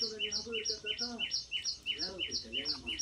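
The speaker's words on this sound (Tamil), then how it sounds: "எங்கள் வீட்டில் கொய்யா மரத்தில் ஒரு குருவி கூடு கட்டி முட்டை விட்டுருக்கு" A sparrow nesting in a guava tree at a home chirps in a quick, repeating series of high tweets, fairly faint against outdoor background noise, with a short lower call partway through.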